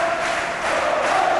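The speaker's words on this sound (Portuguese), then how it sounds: "com toda a gente a bater palmas" Crowd in a rink hockey arena during a Portugal Super Cup match between Benfica and Porto, clapping in a dense, steady roar of massed applause and noise that holds even throughout and swells slightly toward the end.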